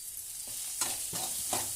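Green chilies sautéing in a pan for a snake gourd stir-fry, three or four scraping stirs rising over a faint, low sizzle, no talking.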